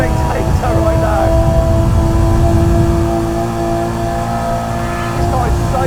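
A Nissan Skyline R33 400R race car in Assetto Corsa, running a 2.8-litre RBX-GT2 engine with 900 bhp and five speeds, holds a loud, steady high-rev drone with a whining tone at speed, and shifts only slightly near the end.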